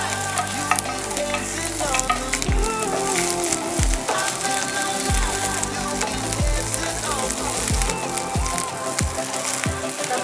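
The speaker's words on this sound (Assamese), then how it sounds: "একেলগে ভাজি আৰু এতিয়া ভাজিম কেপচিকাম দি দিম।" Capsicum fries with carrots and other vegetables in ghee for pulao, loud continuous sizzling with repeated stirring scrapes under faint music.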